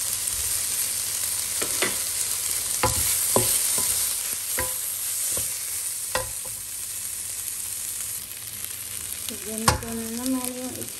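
Onion and garlic sauté in a pan for chicken stroganoff, with a steady close sizzle throughout and sharp scraping clicks as the mixture is stirred again and again; no one talks.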